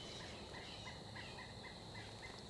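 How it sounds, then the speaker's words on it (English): Birds call around a park footbridge on a morning hike, with a series of faint, repeated chirps over a steady wash of outdoor background noise. "and you can hear the birds around here."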